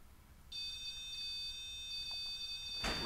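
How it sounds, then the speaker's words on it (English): At Bobby Mackey's during a paranormal investigation, a smoke alarm sounds a faint, high-pitched electronic tone that holds for a couple of seconds before a sudden burst of noise cuts in. "All the alarms are going off."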